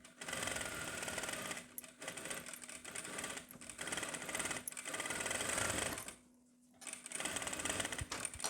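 A sewing machine stitches the collar seam of a boys' jacket in long continuous whirring runs, close and steady, broken by a few brief slowdowns and one short pause before starting again.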